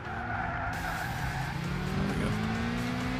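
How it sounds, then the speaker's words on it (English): Car tyres squeal and skid loudly in the racing video game Gran Turismo 6, a sustained screech over a revving engine lasting the whole moment, with no talking. "I guess if I'm squealing, I need to slow down, just brake more and not go as quick."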